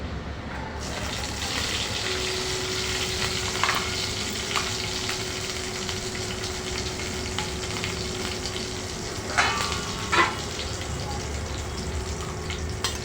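Cumin seeds and green chillies sizzle steadily in hot oil for a meatless fasting-day dish, a continuous close frying hiss with a few brief stirring clatters, and no talk over it.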